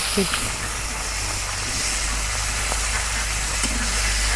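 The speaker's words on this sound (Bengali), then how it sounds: "মাছের মাথাটা উল্টে পাল্টা করি সুন্দর করে ভাজা নিতেছি।" Silver carp fish head fries in hot oil, giving a steady, even sizzling hiss for several seconds with a faint low hum underneath.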